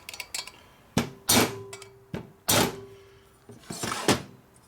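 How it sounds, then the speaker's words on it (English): Plastic hammer tapping the valves in a 1200 Harley Sportster cylinder head during a rebuild: six or so sharp, separate knocks with short ringing clinks, close up and unevenly spaced, no voices. "You just tap it to shock it to see if it wants to recenter or anything"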